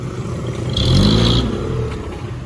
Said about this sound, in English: beer truck in Thailand.